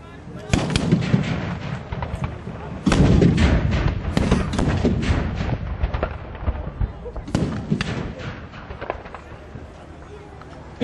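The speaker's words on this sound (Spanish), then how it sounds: "Estos cañones que acaban de hacer fuego son ingleses" Several deep booming blasts of English cannons with broad, rumbling tails at a Battle of Almansa 1707 reenactment, one near the start and others spaced through the clip, under a steady crowd-like background.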